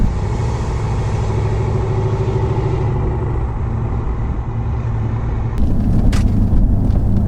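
Ford 6.7 Powerstroke diesel pickup heard from the cab, a loud steady low engine drone at about 1,600 RPM that shifts in tone as the transmission downshifts into third near the end.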